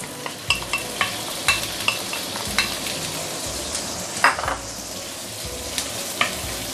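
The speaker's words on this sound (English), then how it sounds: "you want to saute your ginger and garlic to give it some basic flavor" Ginger and garlic sizzle steadily in a hot pan for a Chinese rice stew, while a utensil stirs and scrapes with light regular clinks, close and fairly loud, with no talk.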